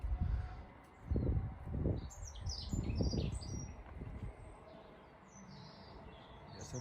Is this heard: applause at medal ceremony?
no